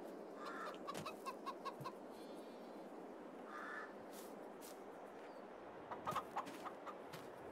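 Chickens cluck in short bursts in the Farming Simulator 22 video game, with soft repeated clucks and a few louder calls over a constant low background hiss.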